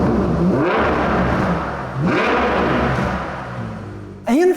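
A Ferrari Monza SP1's naturally aspirated V12 revs repeatedly through its big exhaust tips, rising and falling in waves of loud, close engine roar, with a sharp final blip at the end.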